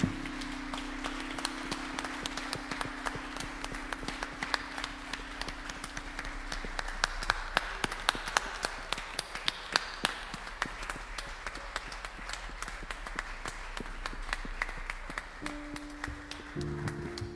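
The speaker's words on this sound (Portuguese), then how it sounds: "Agora use as suas mãos para aplaudir aquele que vive e reina para todo sempre." Church congregation clapping in rhythm during worship, a steady beat of many hands under a faint sustained tone, moderately close and continuing throughout.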